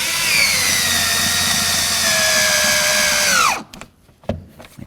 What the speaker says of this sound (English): Now it's time to get these two screws into the handle area here.